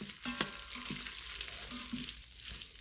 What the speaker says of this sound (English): You want to get the butter and the vermicelli a little browned here.